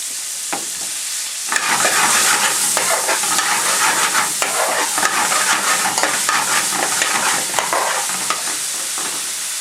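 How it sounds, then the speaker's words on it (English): Onions going into a hot pan burst into a loud, steady sizzle after a quiet start, with scraping stirs and crackles running over the frying noise the whole time. "First thing we're going to do is get our onions in the pan."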